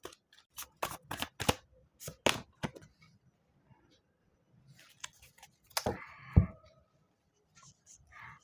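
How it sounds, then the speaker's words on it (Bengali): Playing cards being shuffled and drawn during a tarot-style reading, a string of crisp close flicks and snaps with short pauses, a soft voice speaking briefly in between. "আর একটা কার্ড আমি নিয়ে নিচ্ছি"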